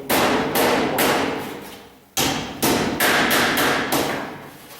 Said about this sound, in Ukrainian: Беремо молоток, тут ось оці викоплості, вирівнюємо їх.